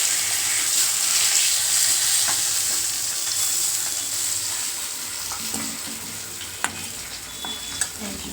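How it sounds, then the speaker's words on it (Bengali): Fish heads fry in hot oil, giving a steady, close sizzle with occasional pops and crackles that eases slightly toward the end. "মাথাটা ভাজা হয়ে গেছে দেখো এই রকম লাল লাল করে কিন্তু মাথাটা ভাজা হবে"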